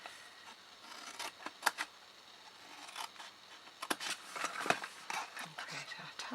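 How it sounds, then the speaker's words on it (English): Scissors cutting cardstock to shape a box tab, giving a few quiet, crisp snips and soft paper rustling close by, with short gaps between cuts. "we're then going to cut up here."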